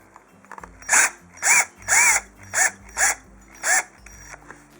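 A power drill bores holes in a planner cover with six short, loud whirring bursts spaced about half a second apart, each rising and falling in pitch, with quiet handling sounds between them.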